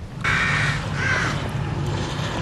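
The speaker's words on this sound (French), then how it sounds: "Corbeau." Crow cawing in The Evil Within on PS3, two harsh caws in close succession standing out over a low droning game ambience.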